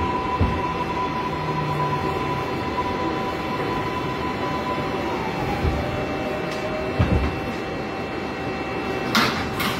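Inside a Woodlawn-bound 6 subway train in New York, a steady, loud rumble of wheels on rails fills the car, with a sustained motor whine and a few brief rattles and clunks.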